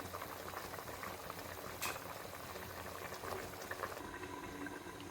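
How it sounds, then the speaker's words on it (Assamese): Sour rohu fish curry with fried fish pieces simmers in a pot, bubbling in a steady, close boil with occasional louder pops and splashes. "এনেদৰে ভাজি লোৱা মাছ কেইপিচ দি উতল আহিবলৈ থাকি ল'ম।"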